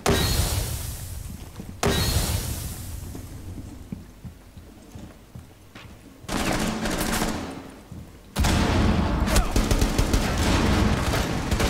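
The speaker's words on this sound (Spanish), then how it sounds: "Están disparando por allá, por el otro lado." Gunfire in Rainbow Six Siege rattles in dense, loud bursts and volleys, broken by quieter stretches before heavy firing resumes.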